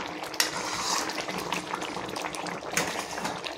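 Salted water comes to a rolling boil in a pot, ready for rice to go in for homemade biryani, with a continuous dense bubbling and a couple of brief louder splashes close by, and no talking.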